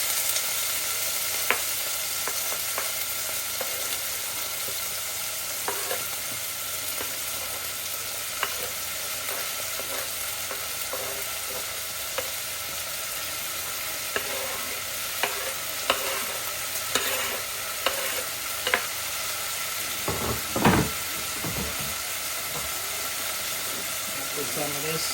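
Tomato, onion and garlic frying in a pan for Guyanese saltfish, a continuous steady sizzle with scattered stirring scrapes and a few louder clanks near the end.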